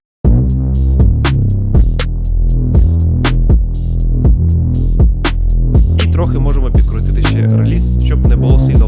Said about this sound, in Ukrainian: Тепер вмикаємо і слухаємо на кік та бас вся увага.